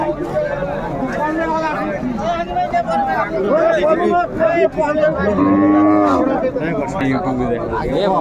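Several cows moo loudly and repeatedly at a cattle market in Ambari, Dinajpur, long low calls rising over a busy background of people chatting nearby.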